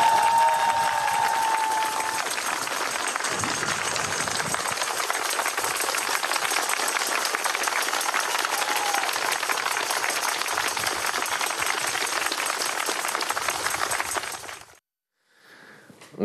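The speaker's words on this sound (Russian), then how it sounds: "И эти аплодисменты от нашей всей Одесской митрополии вам и вашему" An audience of a parish in the Odessa metropolitan diocese applauds in a loud, steady wash of clapping that holds for about fifteen seconds, then cuts off abruptly into near silence.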